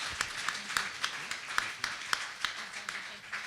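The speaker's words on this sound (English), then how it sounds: "If you could join me in giving a round of applause to the panelists." Panel audience at a Puerto Rico distressed-investing discussion gives sparse, fairly faint clapping, with irregular individual claps scattered through the short stretch.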